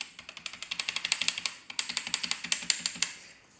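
Rapid bursts of typing on a Warwolf V10 mechanical keyboard fitted with Cherry MX White switches, each loud, sharp key click up close, with a short pause in the middle before the clattering resumes and then trails off.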